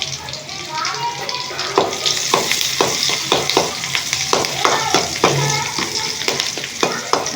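Onions and turmeric frying in a pan, giving a loud, continuous sizzle with rhythmic stirring scrapes on top, close to the pan.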